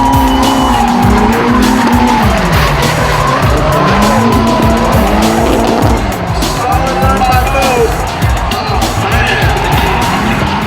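A drift car with a GT-RS turbo and 264 camshaft slides continuously, tires squealing in long wavering howls over a loud engine roar, close and sustained throughout.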